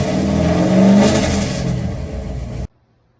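A car engine revs up with an MSD or Lingenfelter two-step engaged, holding a loud steady drone near the mic before cutting off abruptly into silence.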